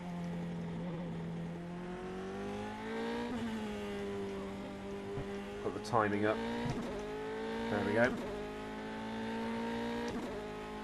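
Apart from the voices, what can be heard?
ASR Formula 3 race car engine in rFactor 2 video game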